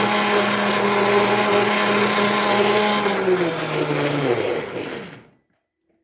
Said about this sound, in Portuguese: Agora eu vou bater tudo, tá bom? Mais ou menos em torno de 2 minutinhos.